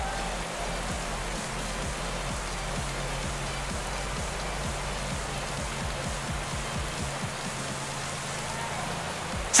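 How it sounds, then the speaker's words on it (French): Steady rain pours down during a stage of the Pro Cycling Manager 2016 video game, a dense continuous hiss that stays even throughout, with no talk over it. "Alors qu'ils recommencent à pleuvoir."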